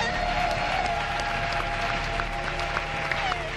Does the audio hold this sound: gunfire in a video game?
no